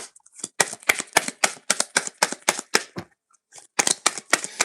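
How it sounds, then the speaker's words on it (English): Tarot cards are shuffled close up, a crisp run of rapid riffling slaps and flicks in quick bursts with a short pause partway through. "This sounds like ASMR with this shuffling."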